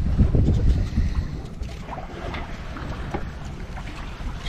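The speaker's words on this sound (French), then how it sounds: "Sous voile, à 3 nœuds à peine, tranquille" A sailboat under sail at about three knots off southern Sardinia, with steady water wash along the hull and wind buffeting the microphone, fairly loud and continuous with no voices.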